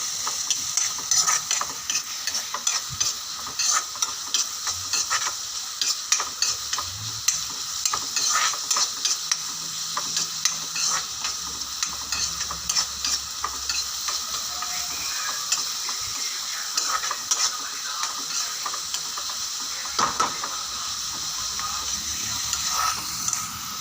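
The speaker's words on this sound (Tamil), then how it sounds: "அப்புறம் கருவேப்பிலை. இப்போது அதை நம்ம வணக்கிக்கலாம்." Curry leaves and small onions sauté in hot oil in a pan for a Tamil fish egg dish, a steady close sizzle with frequent scraping stirs of a spoon, continuous and without voices.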